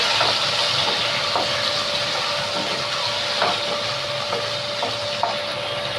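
Tomatoes fry in a pan for tomato dosakaya pachadi, a continuous close hiss and sizzle with faint scattered pops and crackles over a steady background.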